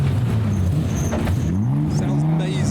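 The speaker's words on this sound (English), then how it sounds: "So there is the BC Racing R33 race car." The BC Racing R33 race car drives past at a Japanese car show, its engine note droning steadily and rising in pitch as it passes fairly close, with a voice talking over it.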